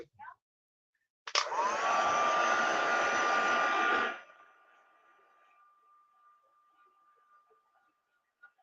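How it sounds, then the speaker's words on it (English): A heat gun blasts close and loud for about three seconds while drying ink on a Christmas bauble print block, a steady roaring whoosh with a thin whine that winds down into quiet after it shuts off. "I'm just going to dry this off with my heat gun."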